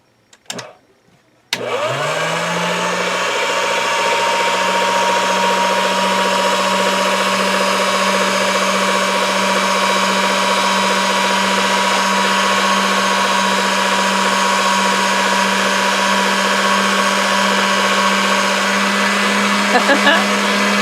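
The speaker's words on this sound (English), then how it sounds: "I'm going to roll this through the pasta machine" A motorized pasta machine rolls a polymer clay feather cane. After a few faint handling taps, the motor starts abruptly and holds a loud, steady droning whine for nearly twenty seconds, close by and with no speech.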